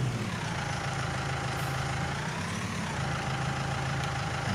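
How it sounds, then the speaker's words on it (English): A 99-horsepower tractor engine idles in Farming Simulator 19, giving a steady, low, droning rumble that holds an even level throughout, with no speech over it. "this tractor will struggle with this because it's only a 99 horsepower tractor"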